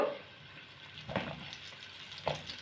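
Sliced pointed gourd (potol) frying in oil in a home kitchen, a soft steady sizzle at low level with two brief louder stirring scrapes partway through.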